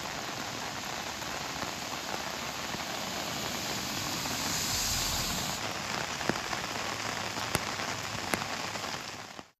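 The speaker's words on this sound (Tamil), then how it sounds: "போடி மற்றும் சுற்று வட்டாரத்தில் சாரல் மழையாக பெய்ய தொடங்கி பின்னர் பலத்த மழையாக மாறியது." Heavy rain pours steadily in Tamil Nadu, a dense hiss of drops hitting the ground that swells slightly midway, with a few sharp clicks near the end.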